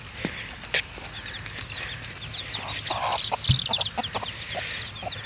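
A hen clucks softly and intermittently nearby, with a few sharper calls and faint rustling in the background.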